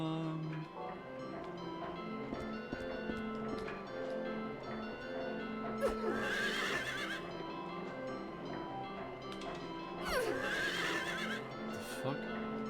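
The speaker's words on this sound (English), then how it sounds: "Horse is moving. The horse is moving." Horse neighing and whinnying in Silent Hill 3, with two loud bursts of neighing over a busy game soundtrack and faint hoof movement.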